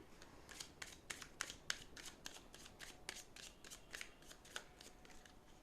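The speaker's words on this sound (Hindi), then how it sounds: "कुछ और कार्ड्स लेते हैं।" Tarot cards riffled and shuffled by hand in a reading, a steady run of crisp flicking bursts, close and quiet, with no voice.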